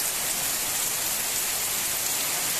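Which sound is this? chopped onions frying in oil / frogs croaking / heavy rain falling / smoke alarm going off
heavy rain falling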